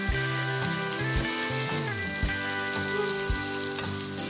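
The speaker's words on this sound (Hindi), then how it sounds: "प्याज शामिल करने के बाद हम इसे कुछ देर पका लेंगे।" Steady sizzling of onions frying in a hot pan, continuous and fairly close, with occasional soft stirring clinks and no talking.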